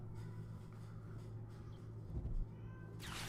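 A pet cat meows loudly in the background, several drawn-out cries carrying through a steady electrical hum of a room with no talking.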